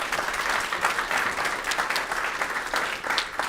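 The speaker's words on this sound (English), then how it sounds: "I'm going to ask my colleagues here to join me in a round of applause" Round of applause from a city council meeting audience, steady dense clapping throughout with no voices over it.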